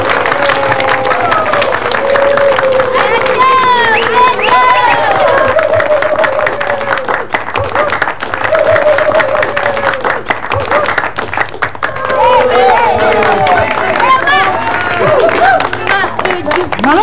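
A crowd claps and cheers at an Indonesian Independence Day neighbourhood event ahead of a poetry reading, loud and sustained, with voices and shouts mixed into the clapping.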